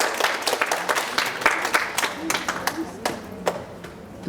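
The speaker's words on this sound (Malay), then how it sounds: "Beri tepukan keliling kepada peserta." Scattered hand claps ring out from an audience at a poetry recital competition, irregular and moderately close, with faint voices murmuring underneath.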